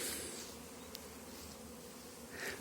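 Honeybees flying around a hazelnut orchard on their first spring cleansing flight, a faint continuous buzzing hum with individual bees passing close now and then.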